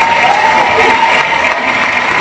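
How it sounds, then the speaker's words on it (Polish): A large outdoor crowd at a charity concert for children claps and cheers continuously, a loud, dense roar of applause and shouting voices with a faint tonal whistle or call rising above it. "O, to są brawa!"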